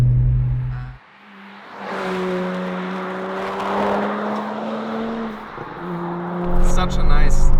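Turbocharged engine of a BMW 1M Coupe heard from inside while driving, a smooth rising drone with clear tonal harmonics as it accelerates, dipping briefly and building again.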